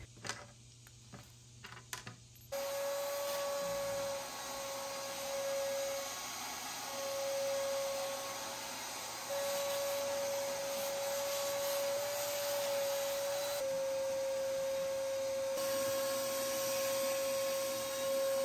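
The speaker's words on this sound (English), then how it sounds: "After a good vacuum to remove as much of the dust as possible" A vacuum cleaner drones steadily for a long stretch, loud and continuous with a constant whine, while dust is cleaned from an old wooden dresser being repurposed into a changing table, after a few brief knocks at the start.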